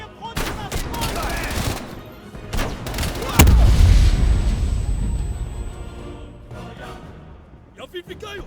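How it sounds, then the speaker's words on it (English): Gunfire bursts and a heavy grenade blast in the Call of Duty: Black Ops Cold War campaign, with rapid shots followed by a loud deep boom that rumbles and fades, and voices calling out between. "Incoming grenade!"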